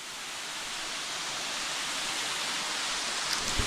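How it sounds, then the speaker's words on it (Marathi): Famous Pareshwar waterfall during the monsoon, a steady broadband roar of falling water that stays loud and constant throughout with no voices. "हा प्रसिद्ध धबधबा आहे"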